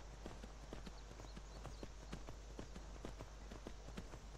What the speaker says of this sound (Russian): Ну что, лошадка, Элли, поскакали вперед навстречу приключениям.